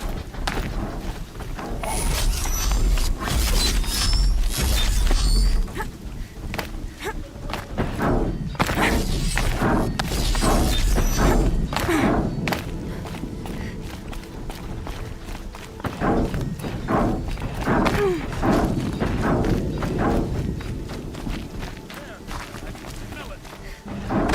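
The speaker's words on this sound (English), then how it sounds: "Sounds of combat." Combat in Horizon Zero Dawn on PC: a dense run of thuds, clanks, metallic impacts and mechanical clatter from machines fighting, loud and busy throughout with a low rumble, and a voice speaking at times.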